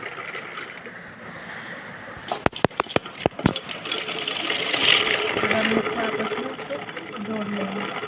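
A sewing machine runs straight stitching along a kachli sleeve, a close mechanical whir after a burst of rapid clicks and rattles, with a voice speaking over it.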